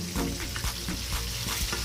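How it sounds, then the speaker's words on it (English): Chicken frying in hot oil, with a steady, dense sizzle running throughout and soft stirring clatters and bumps rising now and then at close range. "we've been frying for say about 8 minutes"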